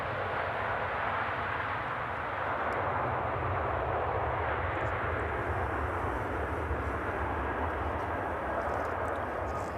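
A JCB aircraft taxis at foggy East Midlands Airport in the evening, its engines giving a continuous, steady low roar and rumble heard from a distance, with no talking.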